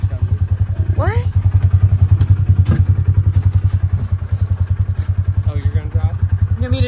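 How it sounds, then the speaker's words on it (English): An ATV engine runs on a farm with a loud, close, rhythmic thumping idle that chugs steadily throughout, while brief voices cut in over it. "I need to move the ATV."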